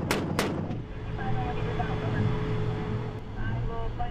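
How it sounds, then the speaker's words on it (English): M1 Abrams tank cannons firing in a live fire exercise, two sharp, heavy blasts in quick succession at the start, then a rumbling engine drone with a faint distant report later. "The Abrams is capable of firing standard rounds, high explosive rounds, and special anti-tank warhead rounds"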